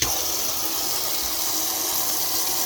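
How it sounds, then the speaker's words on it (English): Water pours steadily from a tap into a container being filled to test insulated waterproof minimalist snow boots, a continuous close rushing gush with no talk. "So we'll go ahead and fill this up with enough water to test the boots"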